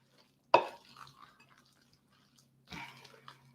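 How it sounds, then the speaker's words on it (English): A wooden spoon combines fruit loaf mix in a mixing bowl, with a sharp knock against the bowl and soft scraping, then a second brief burst of stirring a couple of seconds later. "you're using a wooden spoon to combine it into the mix"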